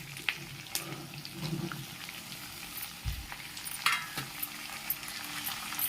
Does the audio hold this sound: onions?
yes